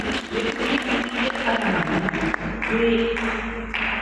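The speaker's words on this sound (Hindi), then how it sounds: "तो इसके लिए एक जोरदार तालियां तो आप दे ही सकते हैं।" Loud, dense applause from an audience at a youth event in India, sustained throughout with a steady wash of clapping and some murmuring underneath.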